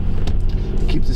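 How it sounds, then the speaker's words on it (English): Engine of a 2012 Nissan Rogue pulling out of a parking lot and setting off, a steady close low rumble under the speaker's voice. "I'm gonna pull out here, drop her in drive."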